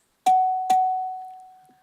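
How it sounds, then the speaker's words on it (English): Two bright bell chimes at a gubernatorial candidates' debate, the second following about half a second after the first, with a single clear tone ringing on and slowly fading. "you will get 2 chimes when you are to wrap up at 2 minutes"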